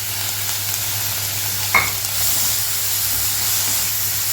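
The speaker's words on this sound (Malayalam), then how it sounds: "കുറച്ച് ടൈം എടുത്ത് തന്നെ ലോ ഫ്ലെയിമിലിട്ട് തന്നെ നമ്മളിത് വഴറ്റിയെടുക്കണം" Chopped tomatoes and tamarind sautéing over a low flame for Karaikudi chutney, a constant close frying hiss with one brief scrape of a spoon, no voices.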